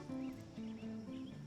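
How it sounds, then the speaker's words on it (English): A horse is heard in a film scene, with soft hoof clopping and snorting low in the mix over a steady tonal background, faint and brief. "Cassie, hold the horse"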